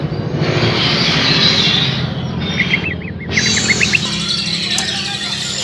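A murai hijau songbird sings at a bird singing contest: a short, bright, warbling trill rises over a loud, steady din of crowd noise and other chirping birds.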